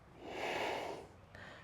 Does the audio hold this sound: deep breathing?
yes